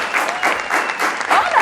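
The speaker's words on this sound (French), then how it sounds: "Voici pour vous, sous un tonnerre d'applaudissements, Reine sur ce plateau." A TV studio audience applauds a contestant arriving on a game show set, with loud, dense clapping throughout the short stretch and no break.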